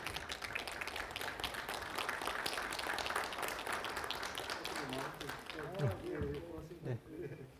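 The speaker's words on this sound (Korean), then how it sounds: "감사의 마음을 담아서 큰 박수를 부탁드리겠습니다" Audience at an academic conference keynote applauds with scattered, fairly faint clapping in the first half that thins out, while a voice speaks over it toward the end.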